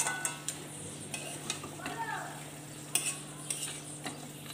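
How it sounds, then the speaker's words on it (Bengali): Fried lentil dumplings are stirred into pumpkin greens in a pan, with a soft sizzle underneath and a spatula scraping and tapping every half second or so, steady and close. "নেড়ে চেড়ে মিশিয়ে নেব।"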